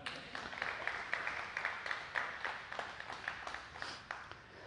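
A church congregation claps their hands together in steady, dense applause, heard faint and distant, with sharper individual claps standing out above the continuous patter.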